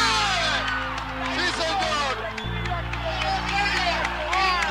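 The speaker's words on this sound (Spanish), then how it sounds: "Ante el aplauso del público" Crowd applause fills a stadium at an athletics high-jump event in Budapest, Hungary, a steady roar of clapping and cheering under a commentator's lively speech.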